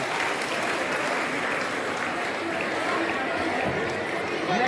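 A large seated audience at an Indian school event claps continuously and fairly loudly, with chatter and voices running underneath the applause.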